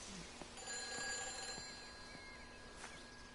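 A telephone rings inside a countryside phone box in a first-person exploration game, its steady electronic trill repeating alone over a faint ambient background with no talking.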